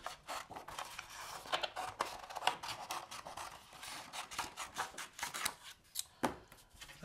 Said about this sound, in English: We just cut a chunk off the end.